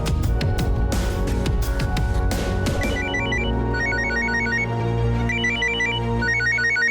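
A phone call rings out loud and close, a repeating electronic ringtone pattern sounding in regular bursts after a busier musical passage, with no speech.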